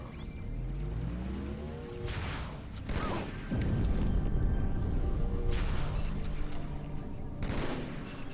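Video game combat on Cairo Station, where plasma pistols fire alongside enemy gunfire. Bursts of sharp shots and rattling fusillades sound at moderate distance, interspersed with whooshing and mechanical clanks over a steady background hum.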